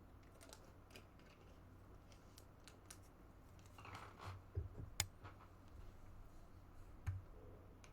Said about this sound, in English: it's windy outside, so you're going to hear that tapping up against the glass.